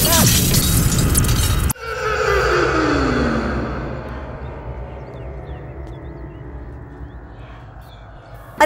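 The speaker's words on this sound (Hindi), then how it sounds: "अरे घर के अंदर पटाखा किसने फोड़ा?" A sharp, loud firecracker bang indoors after a burst of noise, followed by a long falling ringing echo that fades slowly into quiet.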